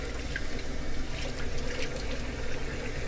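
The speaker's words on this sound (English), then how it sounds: "Do a cold water rinse" Cold water running steadily from a tap for a rinse during a shaving lather experiment, a continuous rushing flow with faint splashing, close and uninterrupted.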